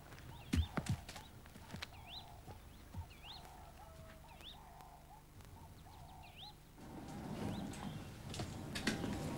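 Horses at the stables, with hooves thudding and clopping, scattered knocks and some whistled or chirping calls over a quiet rural background, fairly distant, without talking.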